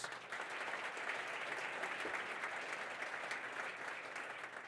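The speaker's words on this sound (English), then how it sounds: "How about a collective round of applause to welcome our students and thank our sponsors" A banquet audience gives a collective round of applause to welcome students and thank sponsors. Steady, continuous clapping from a large crowd sounds somewhat distant and even, lasting the whole stretch without talk.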